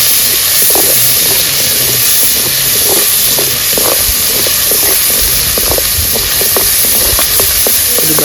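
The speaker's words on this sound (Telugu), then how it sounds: "పెద్దలపాయ ఒకటి ఇది బాగా వేగనిచ్చుకుందాం" Chopped onion sizzling and frying steadily in hot oil for an Andhra-style country chicken curry, a loud continuous hiss with scattered crackles and pops throughout, no voices.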